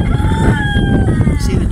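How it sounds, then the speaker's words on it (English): Chickens cluck and a rooster crows from a backyard coop, loud and close, the rising crow standing over busy clucking with faint voice in the mix. "See the chickens over there?"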